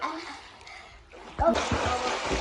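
Water splashes as a child swims, starting quiet with faint trickling, then a sudden loud splash followed by continuing sloshing and churning close by, with a voice briefly audible.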